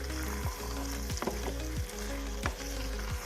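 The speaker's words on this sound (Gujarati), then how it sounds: "અને બધા જ બટેટાને આમાં સારી રીતે મિક્સ કરી દઈશું અને ઉપર નીચે હલાવતા રહીશું" Spiced potatoes for Gujarati bhungra batata frying and being stirred in a pan, a steady loud sizzle broken by repeated scraping strokes of the spoon.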